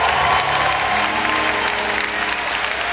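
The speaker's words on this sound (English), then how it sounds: "Give him a round of applause." A comedy show audience at Michael Jr.'s June 2013 performance gives a round of applause, dense loud clapping that carries on evenly throughout, with a low hum and some crowd murmur beneath.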